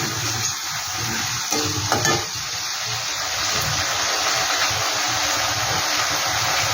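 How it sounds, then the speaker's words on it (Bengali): A paste of ginger, garlic and green chili stirred and frying in hot oil in a pan, a constant loud sizzle with occasional scraping stirs, close up and with no talk. "তারপর এখানে দিয়ে দিলাম আদা, রসুন, কাঁচা লঙ্কা বাটা। এটাকে একটু নেড়ে নিচ্ছি"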